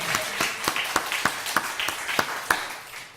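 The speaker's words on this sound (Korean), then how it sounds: "감사 박수 한번 치도록 하겠습니다" Scattered hand claps from a church congregation giving thanks during a Korean sermon, fairly faint and roughly rhythmic, about a dozen sharp claps over a few seconds.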